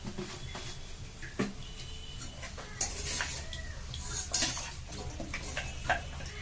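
A spoon stirring chili powder into mutton curry in a metal pot, with light clinks and scrapes against the pan recurring every second or so, faint and close.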